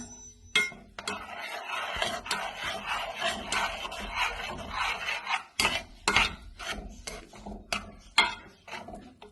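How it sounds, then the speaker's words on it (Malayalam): Steady scraping and rubbing of a spoon stirring millet flour into thick coconut milk in a pan, with sharp knocks against the pan's side throughout. "നന്നായി ഇളക്കി ചേർത്തെടുക്കാം."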